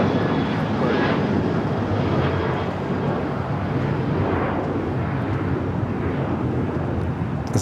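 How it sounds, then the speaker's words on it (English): A China Airlines cargo Boeing 777 freighter touches down on runway 25 left at LAX, its engines producing a steady, fairly loud roar with swelling and fading surges, no voices present. "This is a China Airlines cargo 777 freighter touching down on the 25 left"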